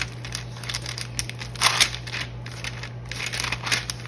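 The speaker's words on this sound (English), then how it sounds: "Let me try and spread it out as much as I can with the rubber spatula." A rubber spatula scrapes and smears a zero-carb keto pizza crust mixture across a pan in soft repeated strokes, close and fairly quiet over a steady low hum.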